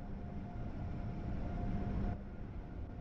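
An Acela Express high-speed train, based on the Alstom TGV and running on the Northeast Corridor in Train Sim World 3, rumbles steadily with a faint constant drone, fairly quiet and alone.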